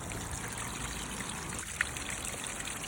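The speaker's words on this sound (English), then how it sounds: "Flowing water has calming effect" Water trickles and flows steadily in a natural setting, a continuous soft babbling wash at moderate level with no voices and no pauses.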